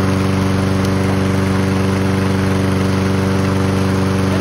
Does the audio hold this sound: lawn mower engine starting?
yes